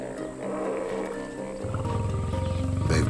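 A lion pride roaring in the wild, deep rumbling roars building in loudness and power toward the end, close and alone without talk.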